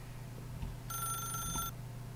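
A telephone in The Stanley Parable video game gives one short electronic ring burst of bright, steady tones lasting under a second, over a low background hum.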